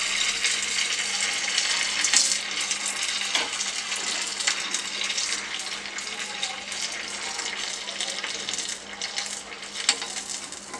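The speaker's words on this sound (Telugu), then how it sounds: "మన నూనె ఆల్రెడీ కాగిందా లేదా చెక్ చేసుకోవడానికి ముందుగా కొద్దిగా పిండి వేసుకుందాం" Batter for potato rice nuggets sizzles in hot oil, a steady loud frying crackle with scattered pops that runs throughout, with no voices.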